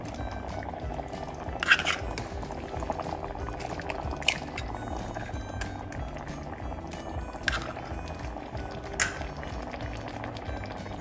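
Egg drop curry simmering in a pan, with a steady bubbling boil throughout and a few brief, sharper splashes as eggs drop into the liquid, close and moderately loud with no talking.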